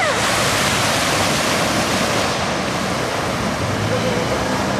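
Floodwater surges and washes along a flooded street as two 4-wheel drives approach, a loud continuous rush of churning water with no pauses.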